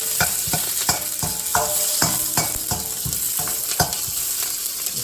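Onion frying for chow mein in a hot pan, with steady sizzling and repeated sharp scraping strokes of a spatula stirring at an even rhythm, close and fairly loud, no voices.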